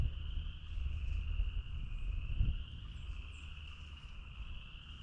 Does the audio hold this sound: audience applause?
no